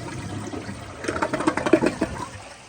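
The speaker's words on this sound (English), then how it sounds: "So here is another flush." An Acorn stainless steel tank toilet flushes: after a quiet moment, a short, gurgling rush of water rises, pulses and then begins to taper, fairly soft overall.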